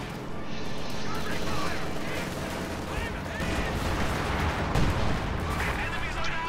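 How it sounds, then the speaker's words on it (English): Artillery shells pound a base in Company of Heroes 2, a dense wall of booming blasts and rumbling impacts, with a caster's voice running over the barrage. "Major artillery gets dropped in Redwings base once again"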